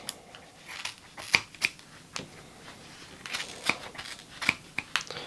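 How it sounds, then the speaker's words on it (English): Sharp scissors snip dyed yellow fur and underfur from a skin, cutting close to the hide to make fly-tying dubbing; a scattered series of quiet, crisp snips and rustles at close range. "Now make sure your scissors are sharp."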